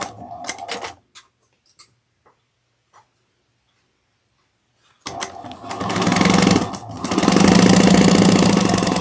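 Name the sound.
sewing machine stitching down the sides of a crossbody bag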